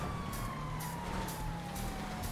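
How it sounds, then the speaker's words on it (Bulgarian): A police car siren wails steadily in a video game street race, a long slowly falling tone over engine and road rumble, with no talk. "Спирам сирените"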